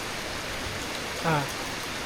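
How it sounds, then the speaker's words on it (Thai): Heavy rain pours down as a steady, dense broadband hiss throughout, with a brief muffled human vocal sound partway through. "ฝนตกหนักเลยนะทุกคน"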